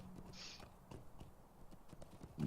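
Horse hooves clip-clop at a steady running gait in the online fantasy game The Lord of the Rings Online, a close, even rhythm of soft thuds with no talk over it.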